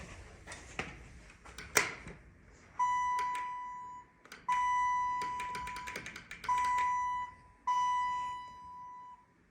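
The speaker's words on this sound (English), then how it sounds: "Let's go inside and ring the bell." Bell in a ThyssenKrupp Impulse hydraulic elevator, installed 2003 at Hershey Lodge, rings four times in steady, close, sustained tones of about a second each, after a few sharp taps and clicks.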